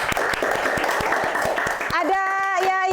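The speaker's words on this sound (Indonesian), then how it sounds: "kita beri tepuk tangan untuk kelompok 4" A classroom claps for group 4 in steady, rhythmic beats for about two seconds before a voice takes over, carrying a clear tonal, sing-song quality.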